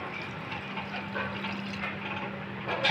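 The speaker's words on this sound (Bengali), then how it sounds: "এখন আমি পানি দিয়ে দেবো" Water pours into a pot of dried fish curry in a steady, close splashing stream that holds even for a few seconds and swells slightly at the end.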